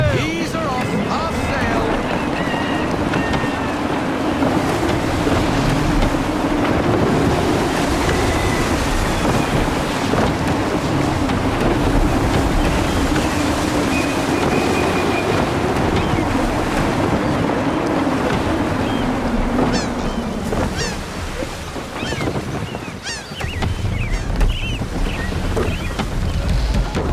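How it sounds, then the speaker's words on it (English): In Assassin's Creed 3, a sailing ship runs through gusty wind and waves, giving a loud, constant rush of wind and surf with creaking and splashing that thins briefly near the end, and voices speaking over it. "Gusty winds can be difficult to manage."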